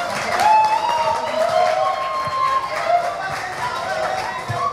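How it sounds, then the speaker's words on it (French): An audience at a Cameroon science slam event in 2016 claps continuously throughout, with voices and cheering mixed in beneath the applause. "On applaudit encore pour Achille Noumia et sa petite sœur Diane."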